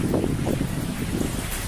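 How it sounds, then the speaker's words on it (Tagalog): Steady, blustery wind at Ulango Hanging Bridge roars against the microphone, a dense low rumble with gusting swells and no pauses. "Sobrang lakas ng hangin."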